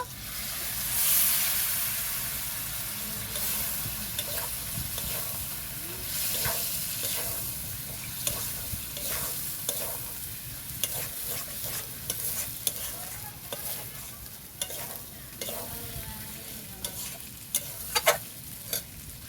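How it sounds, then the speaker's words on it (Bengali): Meat being stir-fried in a pan for mutton khichuri while reserved meat stock is added a little at a time, giving steady sizzling and frying hiss with repeated scraping stir strokes throughout, no talking. "আমি যেটা মাংস থেকে যে জলটা তুলে রেখেছিলাম অল্প অল্প করে দেবো আর ভালো করে কষিয়ে নেব।"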